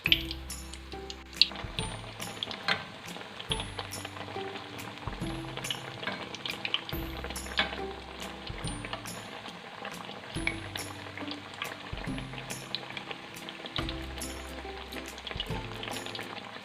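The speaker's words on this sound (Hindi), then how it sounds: "अब इसमें मैं अपने पकोड़े डालती जा रही हूँ" Eggplant pakoras deep-fry in hot oil over a medium flame, a dense steady bubbling sizzle with repeated sharp crackles and clinks throughout.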